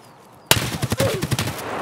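In the Escape from Tarkov video game, a gun cracks out loudly after a quiet moment, followed by a rapid string of further shots and echoes, close and forceful.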